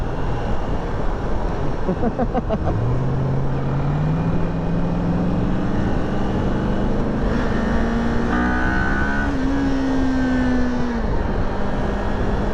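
A Kawasaki Ninja 400 motorcycle accelerates hard, its engine note climbing steadily through several gear-held sweeps over constant wind roar, loud and close throughout.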